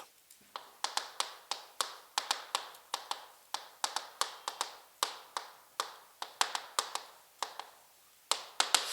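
Chalk or marker strikes a board during a Korean real-estate law lecture, producing a steady run of crisp, close taps in an uneven writing rhythm with no voice.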